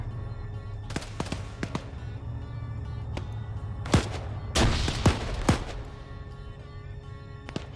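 Scattered gunshots in a video game battle, with sharp isolated cracks and short bursts at varying distances and a heavier cluster of blasts midway, set over a low steady rumble.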